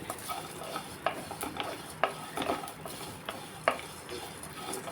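Sesame seeds, coconut and red chillies dry roast in an oil-free pan, with quiet, irregular scraping and tapping from a spatula stirring them through a continuous low sizzle.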